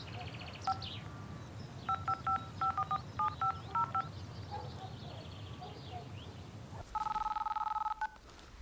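Telephone keypad tones as a plumbing service worker dials a customer's number: a quick run of short, evenly spaced beeps, then a longer steady tone, over a low background hum.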